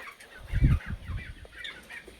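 Free-range country chickens cluck nearby in short, irregular bursts, with a few soft higher calls over a quiet backyard background.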